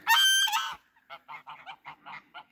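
Several geese honk in a rapid series of short, fairly close calls after a brief louder opening burst, on a farm on a cold winter day with solid ice around.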